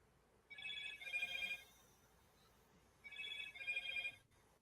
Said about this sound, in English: now her phone's going on